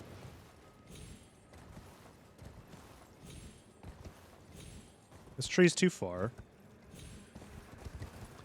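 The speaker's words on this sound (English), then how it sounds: "Doesn't help that the horse controls like absolute dog ass." Horse hooves clip-clopping in the video game Elden Ring, a steady soft rhythmic patter under game music, with a person talking over it and a brief loud neigh-like burst midway.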